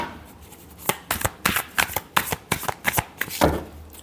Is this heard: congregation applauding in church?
no